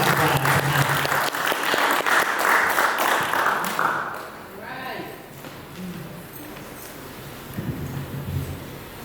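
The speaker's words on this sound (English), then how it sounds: "start clapping right now for Marcia Gabrielle and Bashi Rose" An audience at a literary reading claps loudly for about four seconds before the applause fades out, followed by quieter rustling and room noise.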